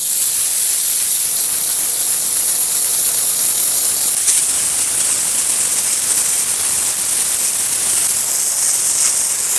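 A pressure car washer sprays water in a steady, loud hissing rush that runs unbroken throughout, with a slight shift in tone partway through.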